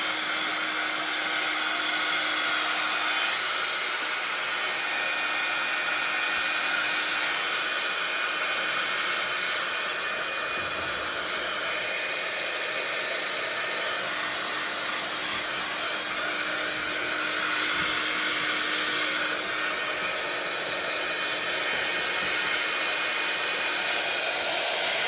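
Hair dryer blowing steadily and loudly throughout, drying a mixed media journal cover, a constant close whooshing roar with no break.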